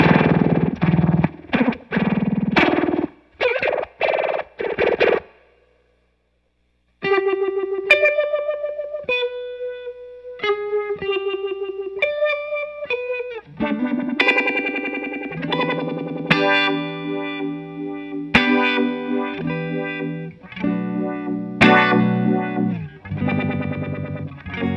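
Electric guitar played through a Backline Engineering FX Tracker effects pedal with distortion, heavy modulated chords and single-note riffs with a chorus-like shimmer, loud and close, with a short silent break near the start.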